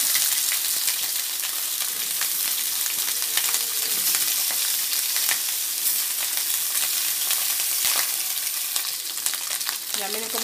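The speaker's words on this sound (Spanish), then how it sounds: "Y así ponemos todo nuestro salami a freír." Small thin rounds of salami frying in a pan, a steady, dense sizzle and crackle with occasional pops and stirring, close and continuous with no talk.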